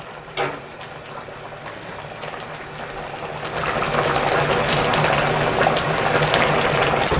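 Korean braised spicy chicken stew (dakbokkeumtang) boils in a pot, its soft bubbling swelling into a fuller, louder simmer partway through and carrying on steadily, with a brief clink near the start.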